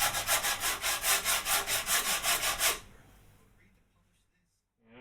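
Quick, steady back-and-forth strokes of a sanding block rasping over wood, about a dozen in a row, then the scraping stops and only faint room noise remains.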